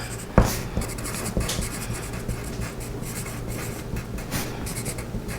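A pen scratches across sewing pattern paper in short strokes and bursts, writing labels, close and fairly quiet, with a sharp tap at the start.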